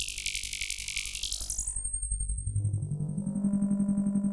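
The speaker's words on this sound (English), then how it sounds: "It's the sound of these two filter aids that being cross modulated by pivot 2." Two Joranalogue Filter 8 modules cross-modulated by a Pivot 2 produce a buzzy, rapidly pulsing synth tone whose pitch sweeps and shifts, ending in a sustained, resonant low drone with a thin high whine above it.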